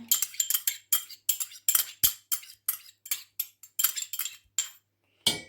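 Homemade yogurt is emptied out of a container, with a spoon clinking and scraping against it in quick, close, regular taps before a brief pause and one final scrape.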